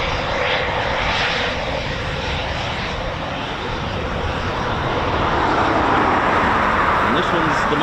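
A Eurofighter Typhoon FGR4 jet engine roars loud and continuous at RAF Coningsby, a broad sustained blast with no letup.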